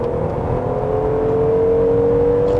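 A facelifted 2020 Hyundai Grandeur IG sedan accelerates, heard from inside as a smooth, steady engine whir with a faint rising tone and road hum, with no talking.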